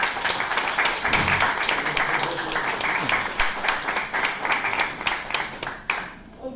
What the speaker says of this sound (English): Big round of applause for Mayor Gordon.